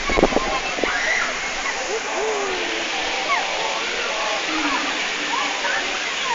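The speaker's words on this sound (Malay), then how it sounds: "Lepas tu bila time ombak sampai kan. Itu ada ombak lah." Waves rolling in and splashing at Bukit Merah, a steady broadband wash of water with occasional louder surges, continuous and fairly close, with people's voices mixed in.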